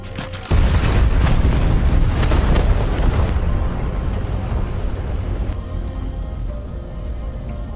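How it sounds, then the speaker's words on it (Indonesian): A sudden loud explosion of ammunition erupts on a battlefield, followed by a long, heavy rumbling roar that slowly fades over several seconds. "Dan setelah itu pun ledakan pun terjadi"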